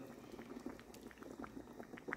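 Pasta cooks in a pot of boiling water, giving a soft, close bubbling and popping with irregular small bursts throughout, quiet and without talk.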